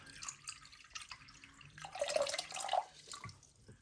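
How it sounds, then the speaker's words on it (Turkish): Water from a fish bag pours and drips into an aquarium in short, faint splashes and trickles, close by and quiet, with no talk. "Direkt bunun içine boşaltıp kepçeyle akvaryuma ilave edeceğiz"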